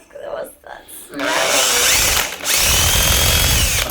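A struggling electric drill running loud and steady in two bursts with a brief dip between, after some short speech at the start.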